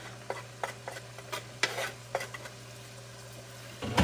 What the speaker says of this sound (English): So I put the mushrooms in the palm oil, and I'm going to add onions.